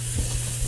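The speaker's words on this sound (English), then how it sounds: "Got my onion going. Sauteing that for a little bit." Onion sautés in a pan for red beans and rice gumbo, giving a brief, even, hissing sizzle close by with no other sounds.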